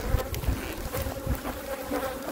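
Honey bees buzz steadily around a hive during a Texas raw honey harvest, a dense close hum with individual bees droning past, and no talking.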